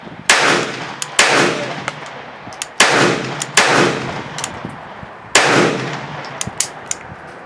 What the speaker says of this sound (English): now that I have the proper ammunition in there, the gun should cycle perfectly